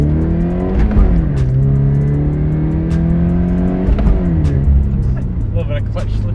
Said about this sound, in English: A little bit of clutch slippage going on.